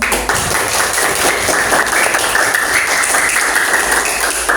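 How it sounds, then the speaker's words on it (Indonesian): A classroom group claps loudly and steadily for several seconds, a close, dense patter of many hands at an even pace. "Ya, kita beri tepuk tangan"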